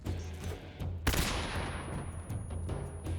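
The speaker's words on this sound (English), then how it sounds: "Oh, they flashbang an entry." A flashbang grenade bursts at a doorway entry in Metal Gear Solid 3: Snake Eater, a sharp loud bang followed by a long hissing ringing decay over a low game hum.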